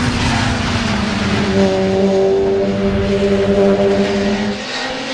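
A WTCC touring race car engine at the Curitiba circuit howls continuously at high revs, loud and steady with a slight pitch rise, blended with the roar of other cars nearby and no talk.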